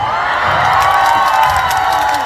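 Concert crowd at an outdoor food festival stage cheering and applauding loudly, a dense, continuous roar of shouts and clapping with occasional whoops, sustained throughout with no break.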